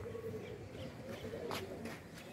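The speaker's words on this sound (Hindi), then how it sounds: "आपको एंजॉय मजा आया होगा कबूतर देख के, दुबई के कबूतर कैसे होते हैं" Dubai pigeons cooing, a soft low murmur of repeated coos from several birds close by, with a few brief higher chirps and faint background rustle, no talking.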